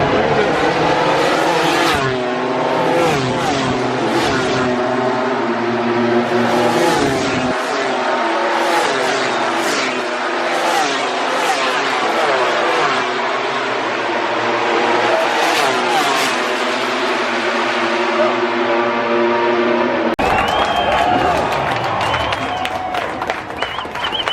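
MotoGP race motorcycles scream past at full speed during a sprint race at the Austin circuit: loud, high-revving engine wails rise and fall in repeated pass-bys, with crowd noise behind them.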